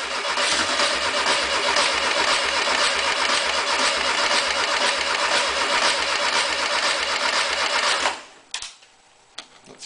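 A VW 1600 engine cranks and catches on one cylinder, producing a loud, even chugging rhythm for about eight seconds before cutting off abruptly, followed by faint clicks and quiet.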